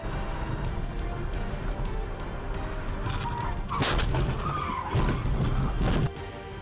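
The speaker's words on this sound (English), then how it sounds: "The road surface is damaged and lacks traction, causing the car to lose control and fall down." A car skids on a damaged, low-traction road surface, loses control and plunges into a ravine; loud rough bursts of skidding and impact noise rise over a steady roar of road and engine noise, with no voices.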